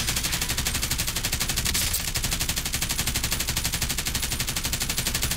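Rapid automatic gunfire in a video game, a dense steady stream of evenly spaced shots lasting several seconds, loud and close with a brief pause midway.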